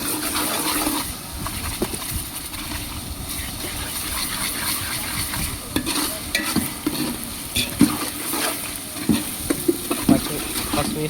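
Meat curry of bone marrow pieces frying in a pan while being stirred, a steady loud sizzle with repeated scraping clicks of the spoon building toward the end, no voices.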